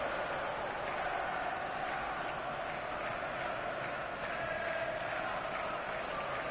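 A football crowd at an Arsenal versus Manchester United match sends up a steady, dense roar of cheering and applause that holds at an even level throughout.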